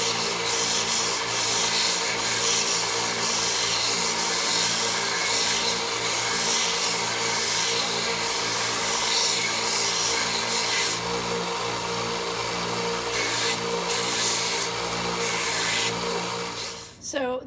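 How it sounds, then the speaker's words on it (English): A hammerhead is pressed against the flexible part of a running sanding belt, giving a loud, continuous abrasive rasp with a steady motor hum beneath it that cuts off abruptly at the end. "I'm just going to kind of work in this motion against the part of the belt that has some flex in it"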